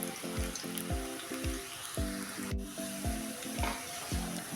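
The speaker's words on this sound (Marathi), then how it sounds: "थोडं पिंगट होतपर्यंत तळून घ्यायचे" Elephant yam chips fry in hot oil with a steady, even sizzle and hiss that runs through the whole stretch, while a repeating rhythmic thumping pattern sounds underneath.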